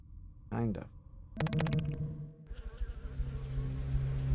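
Bees in the video game STASIS give a rough, sustained buzzing drone, mixed with other game sounds and a voice speaking over part of it.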